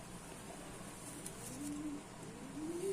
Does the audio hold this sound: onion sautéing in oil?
no